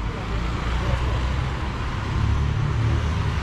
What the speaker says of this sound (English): Looks like a bus goes through here as well.